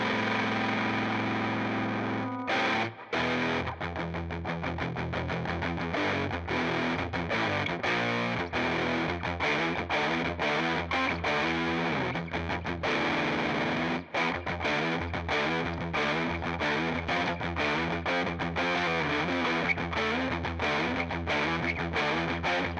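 Electric guitar played through a C.A.R.L. Thunderf#ck (Mr. Black Thunderclaw) distortion pedal, set with volume and distortion at noon, lows low and highs slightly up: a loud, continuous fuzzy riff with brief choked gaps, played alone.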